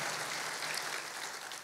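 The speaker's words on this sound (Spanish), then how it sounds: "démosle un aplauso fuerte al Señor" Church congregation applauding during a worship service, a continuous hiss of many hands clapping, soft and distant, steady throughout with no talk on top.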